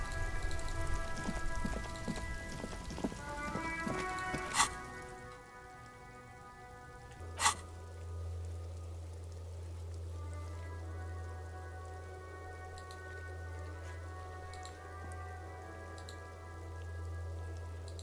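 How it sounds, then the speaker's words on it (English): Steady rain falling in the Disco Elysium video game, a soft continuous patter under a low ambient drone, with faint musical tones early on and two sharp isolated hits. "It's raining again."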